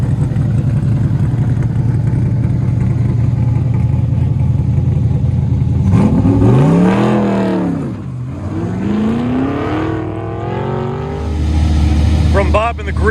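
Green Mamba hot rod with side pipes and a big wing revving hard at an autocross, a loud rumbling idle swelling into sweeping rev rises and falls, with someone talking over it.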